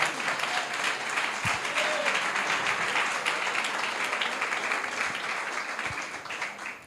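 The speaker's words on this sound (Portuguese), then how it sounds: "Oh, aplauda ao Senhor, aplauda Ele," A church congregation applauds together during a Portuguese-language service, producing a steady wash of many hands clapping at once that holds evenly for several seconds before easing slightly.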